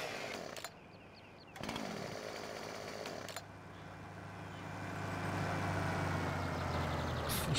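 A chainsaw runs in the Farming Simulator 17 game, its engine droning loud and steady with brief dips and cut-outs early on, then holding a continuous high buzz to the end.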